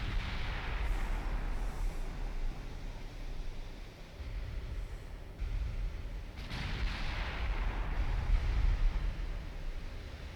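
Battleship gunfire in the naval game Ultimate Admiral Dreadnoughts: distant, muffled cannon booms rolling under wind and sea-like noise, several blasts spread over the stretch.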